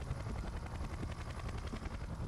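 A helicopter in Splinter Cell Conviction, with steady rapid rotor chopping throbbing continuously at moderate distance and fairly quiet, with no voices.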